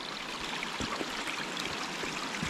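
A stream flows steadily beside the Lake 22 trail in Washington, a continuous close rush and trickle of water with no voices over it.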